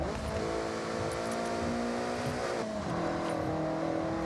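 An Initial D Toyota AE86 in the Forza Horizon video game revs hard with a sustained high engine whine that climbs and shifts pitch mid-run, loud and continuous without any talking.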